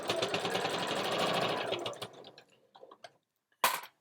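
A sewing machine runs steadily, stitching a fabric ironing board cover in a fast continuous whirr for about two seconds, then stops and gives a few short start-stop bursts and one final brief burst.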